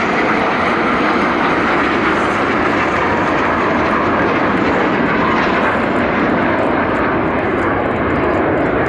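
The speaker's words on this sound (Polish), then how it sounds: "Spójrzcie w górę, nad sobą widzicie 9 samolotów." Frecce Tricolori jet aircraft fly overhead at an air show, making a loud, continuous broadband roar that holds steady and close for the whole stretch, with no voices over it.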